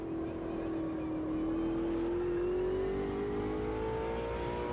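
The Ultimate GTR race car in the racing game Automobilista 2 holds a loud, steady engine drone whose pitch climbs gradually as it accelerates through the gears, alone without talk.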